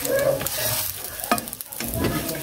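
A smoked omelette fries in a pan over a firewood fire in an outdoor kitchen, with close sizzling broken by scraping stirs of a utensil against the pan.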